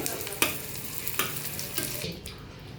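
Fish roe fritters fry in oil with a quiet, close sizzle, punctuated by a few sharp utensil scrapes and taps before the hiss thins out near the end.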